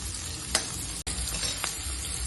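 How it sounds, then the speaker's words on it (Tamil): Chopped onion with ginger garlic paste and a little salt sautéing in a hot pan for Malai Kofta, a steady close sizzle and crackle with a couple of brief stirring scrapes and no talk. "இதில் கொஞ்சம் உப்பு சேர்த்து வதக்கிறேன், அப்போ தான் சீக்கிரமாக வதங்கும்."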